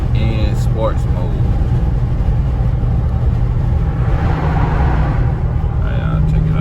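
A Dodge car driving in sport mode, seen from the driver's seat: a loud, steady engine and road rumble runs throughout, with a voice talking over it.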